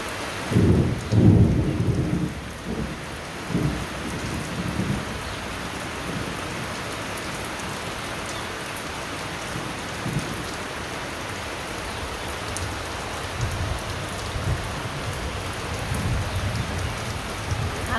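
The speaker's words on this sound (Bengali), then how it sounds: "এত বৃষ্টি নামছে" Heavy rain pours steadily while low rumbles of thunder roll in, strongest near the start and again toward the end.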